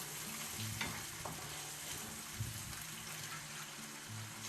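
Spaghetti sauce being stirred in a pan, a faint bubbling sizzle with soft scraping strokes at a gentle, irregular pace.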